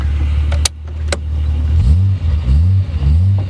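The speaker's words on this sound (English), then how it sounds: "The engine in this Toyota Celica Supra is a 5ME TRD engine from Australia, from the TRD spec car." Toyota Celica Supra with a 5ME TRD straight-six engine from the Australian TRD spec car, accelerating loudly from inside the cabin with rising revs and a few quick gear changes, plus brief clicks at the start.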